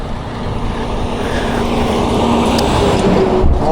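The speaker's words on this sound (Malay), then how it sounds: "Motor masih hidup." A motorcycle engine keeps idling and running at a fishing spot, a steady broadband rumble filling the whole stretch at close range with no talk over it.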